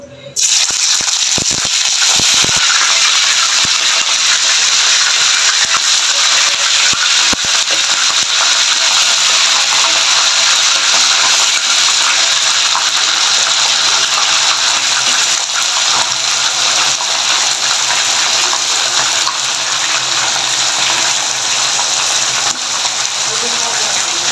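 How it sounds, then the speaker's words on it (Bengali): Chicken frying in hot oil in a frying pan gives a loud, sustained crackling sizzle that starts with sharp pops as the pieces go in and then settles into a steady hiss. "এখন চিকেনটা আমি তেলের মধ্যে একটু ভেজে নিব"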